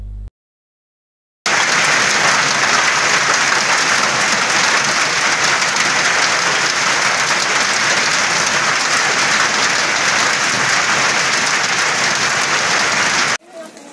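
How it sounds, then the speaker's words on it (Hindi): Heavy rain mixed with hail pounding down over crop fields, a dense, loud, continuous roar that starts abruptly and holds steady until it cuts off. "तेज बारिश के साथ जब ओलों की बौछार हुई तो कौतूहल मच गया"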